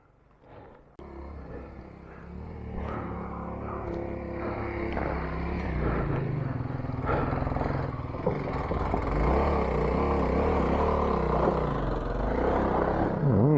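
A dirt bike engine on a dual-sport trail ride in Colorado revs repeatedly and grows steadily louder as it approaches, rumbling throughout with no talking.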